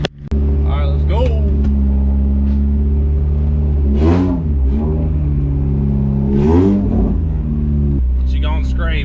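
A wagon with a swapped Honda F20b engine idles loudly nearby, then revs in two rising bursts as it pulls away, its low droning exhaust steady underneath.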